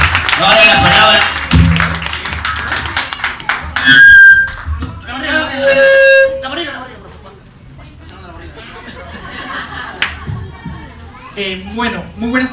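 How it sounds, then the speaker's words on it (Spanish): A crowd gathered for a thank-you event claps loudly, with children's squeals and chatter over it. The clapping ebbs into voices talking. "¡Eh, aplauso fuerte!"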